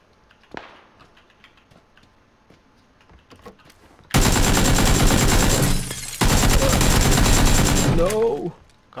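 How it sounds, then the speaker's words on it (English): Rapid automatic gunfire in a video game erupts in loud sustained bursts after a quieter stretch of faint clicks and thuds, with a short break between two long volleys. "There's a guy shooting me from southwest."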